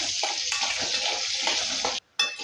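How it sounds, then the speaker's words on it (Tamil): Potatoes fry with salt in hot oil, giving a continuous loud sizzle with a little stirring texture that cuts out abruptly near the end before returning. "கொஞ்சம் உருளைக்கிழங்கு உப்பு சேர்த்துக்கலாம் சேர்த்துட்டு நல்லா ஃப்ரை பண்ணி எடுத்துக்கலாம்"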